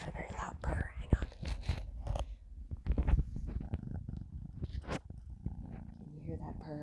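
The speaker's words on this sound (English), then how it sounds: "She's got a very loud purr." A pet cat's loud purr rumbles low and steady close by, partly under quiet speech and soft handling noises throughout.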